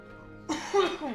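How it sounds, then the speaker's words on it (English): A single harsh cough, close and fairly loud, with a brief rasp trailing off. "This cough needs to go away."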